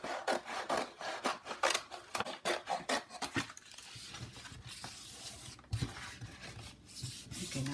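Scissors or a blade trim excess paper for a handmade Christmas folio album, a run of quick, crisp rasping cuts and rustles at close range, then softer scraping and paper handling.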